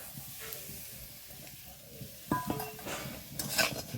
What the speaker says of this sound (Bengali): দিয়ে এখন এটা ভালো করে নাড়াচাড়া করব